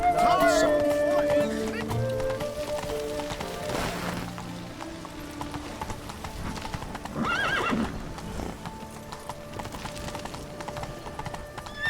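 A horse in The Witcher 3 clip-clops along at an easy pace and gives a clear neigh, over game music and ambient sound. Voices talk over it.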